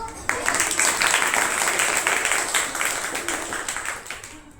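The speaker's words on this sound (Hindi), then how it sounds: "आप लेकिन तालियां बजाकर इनकी हौसला अफजाई करें।" A classroom audience applauds to cheer on students at a maths game, a steady wash of clapping that stays loud throughout and thins slightly toward the end.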